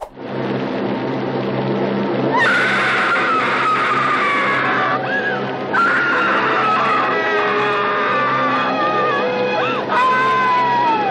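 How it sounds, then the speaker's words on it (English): A woman screams repeatedly in a film scene, long loud wailing cries rising and breaking over a layered background of music and noise. "She screams some more."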